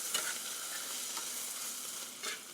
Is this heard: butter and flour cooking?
yes